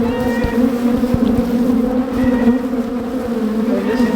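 Honeybees buzz steadily around a swarm trap hive, a dense continuous drone with occasional nearer passes and faint clicks, loud and close.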